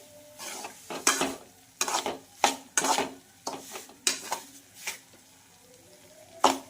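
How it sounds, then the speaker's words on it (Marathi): Semolina dry-roasting in a pan for a jaggery sheera, stirred with a spoon in a series of scraping, rasping strokes about once a second, close and fairly quiet, with light utensil clinks and no talking. "अशाच प्रकारे आपल्याला रवा भाजून घ्यायचा आहे"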